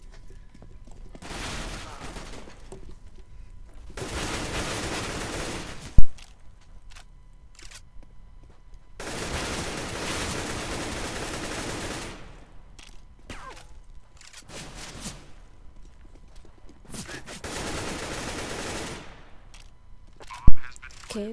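AK rifle fire in Counter-Strike: Global Offensive, several loud sustained bursts of automatic gunfire separated by short lulls, with a couple of sharp single cracks.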